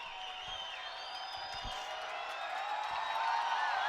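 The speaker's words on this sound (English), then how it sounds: "Crowd coming to its feet." A stadium crowd at a soccer match between Real Monarchs and Portland Timbers 2 sends up a broad, steady wall of applause and cheering with a few whistles. The noise swells slightly toward the end.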